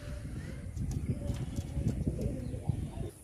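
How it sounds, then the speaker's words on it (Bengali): Old-line Andhra pigeons cooing close by in low, soft throaty pulses, repeating unevenly over a few seconds against faint background noise. "দেখুন পায়রা দেখুন, আমি কি বলবো পায়রা কথা বলে"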